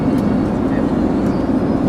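Steady airplane cabin roar during a flight to Kuala Lumpur, a dense low rumble that fills the whole moment without a break.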